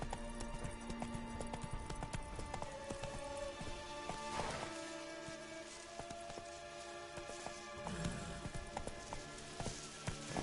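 Hooves clip-clop in a rapid, steady rhythm as a horse gallops in the video game The Witcher 3, with the pounding continuing throughout against a busy background of game sounds.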